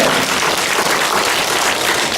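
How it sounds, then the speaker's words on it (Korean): Dense, loud applause fills a church worship service for young adults, a continuous wash of many hands clapping with no talking. "우리 좋으신 하나님께 박수를 한번 돌리겠습니다"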